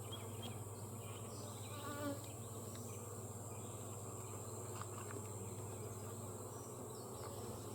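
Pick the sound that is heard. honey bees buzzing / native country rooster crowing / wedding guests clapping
honey bees buzzing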